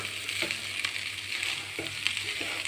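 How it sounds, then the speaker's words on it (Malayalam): Drumstick leaves, jackfruit seeds and egg for a thoran are stirred in a hot pan, giving a close, steady sizzle with soft scraping strokes and a few light taps. "അപ്പോൾ എല്ലായിടത്തും ആവുന്നത് വരെ നന്നായിട്ട് മിക്സ് ചെയ്ത് കൊടുക്കാം."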